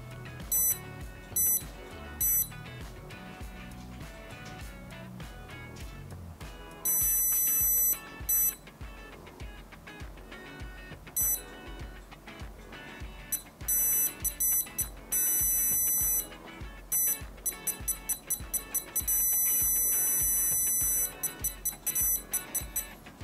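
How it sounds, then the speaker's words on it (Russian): Repeated electronic warning beeps from a CYCLON SX-4T car parking sensor, triggering from 30 centimetres to 2 metres, coming in bursts of quick tones that speed up at times, loud and close over a steady background. "Парктроник срабатывает от 30 сантиметров до 2 метров со звуком"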